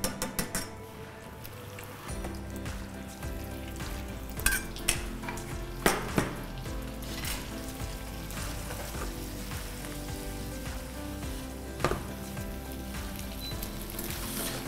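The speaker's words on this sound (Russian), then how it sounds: "перекладываю с помощью шумовки все наши фарфали в сковородку" Steady sizzling of farfalle pasta frying in a pan after transfer with a skimmer, with occasional clinks of a utensil against metal and soft stirring scrapes throughout.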